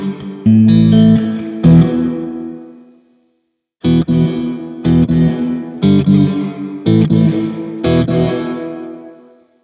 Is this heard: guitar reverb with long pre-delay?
yes